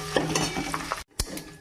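Bay leaf and garam masala spices tempering in hot oil, a dense close sizzle with stirring scrapes, briefly cut to silence before a sharp clink and the sizzle resumes.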